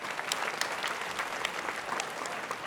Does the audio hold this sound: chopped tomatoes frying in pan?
no